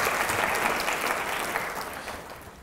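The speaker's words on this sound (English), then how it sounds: "So I'd like once again to give them a round of applause." An audience at a public lecture on filial parenting claps in a dense, steady round of applause that carries on throughout and fades slightly near the end.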